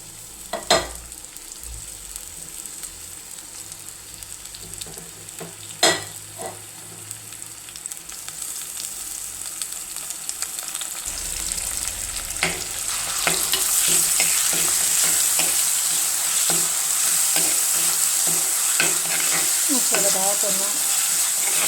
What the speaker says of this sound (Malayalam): ഇഞ്ചിയും പച്ചമുളകും വെളുത്തുള്ളിയും കൂടെ ചതച്ച് വെച്ചത്, ഇത് കറിവേപ്പില, അത് നമുക്ക് എണ്ണയ്ക്കകത്ത് വഴറ്റിയെടുക്കാം